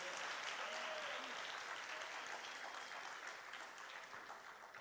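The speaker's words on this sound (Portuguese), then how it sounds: "Vamos aplaudir mais forte, queridos." Church congregation at a Baptist evening service applauding steadily, a broad wash of clapping that holds loud and even, then eases slightly toward the end, with faint voices beneath.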